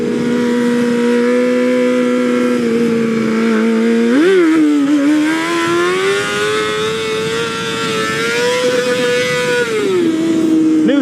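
A Nissan 370Z accelerates hard in first gear, its engine note climbing steadily and loud, with a brief blip before a long rising pull that drops off near the end, no voices present.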